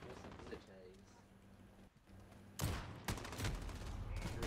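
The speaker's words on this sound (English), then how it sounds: "damn, he shot at me." Gunfire in the video game Call of Duty, bursts of rapid shots loud and close in the second half, following quieter game sounds with voices talking over it.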